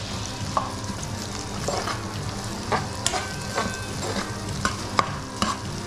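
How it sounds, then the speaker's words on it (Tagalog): Lemongrass sautéing in a pan before coconut milk goes in, a continuous sizzle broken by sharp clicks and scrapes of stirring, close and fairly loud, with no talk. "Gisahin lang natin to, master, tapos lagay natin yung gata."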